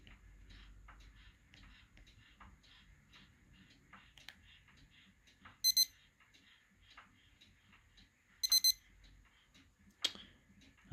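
Faint ticking and small clicks from a digital calculator watch, broken by two short bursts of high-pitched electronic alarm beeping, quiet and close.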